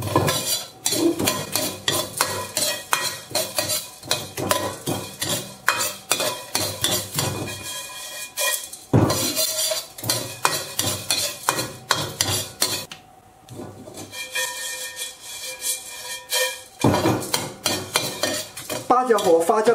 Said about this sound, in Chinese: 炒的时候要不停的翻动